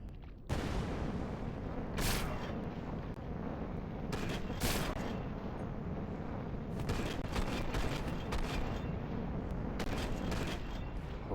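Continuous gunfire and blasts in the sci-fi game Nonsolar as tentacles are shot, a dense rumbling barrage with several brighter bursts standing out, steady and fairly distant-sounding throughout.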